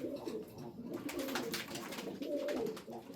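Soft, low coos of Sarıkır tumbler pigeons repeat in a gentle rolling rhythm, close by, with light rustling and faint chirps around them.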